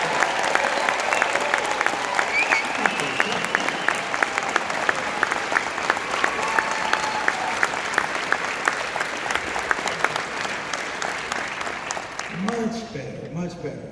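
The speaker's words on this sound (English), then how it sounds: "They were actually clapping for themselves" A large audience at a police academy commencement applauding, dense sustained clapping with scattered crowd noise that fades out near the end as a voice speaks over it.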